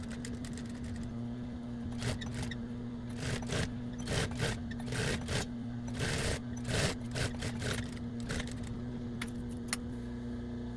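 A sewing machine stitches bias tape onto a hooded dinosaur towel, with several short bursts of rattling needle noise and pauses between them over a constant low motor hum, close and unvoiced.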